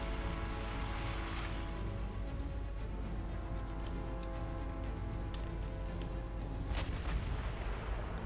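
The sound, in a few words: warship guns firing in a naval video game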